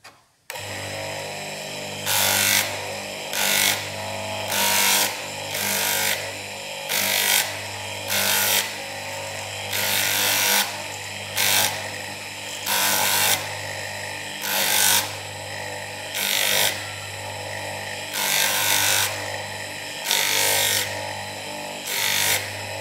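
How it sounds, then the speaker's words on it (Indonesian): Sandpaper is worked over a handmade copper and brass ring in regular back-and-forth strokes, about a dozen rhythmic rasping bursts over a low, constant background hum. "Setelah itu kita amplas ke grid yang lebih halus, nomor"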